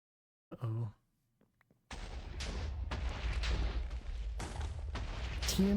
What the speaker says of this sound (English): TNT with fireworks?